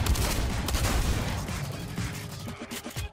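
Rapid gunfire in the shooter game Blacklight Retribution, with heavy bursts of shots and booms up front that thin into scattered, sharper pops toward the end.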